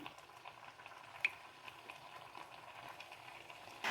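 Jackfruit seed curry bubbling in a pot, a faint, steady simmer with soft popping and an occasional sharper pop, no one talking.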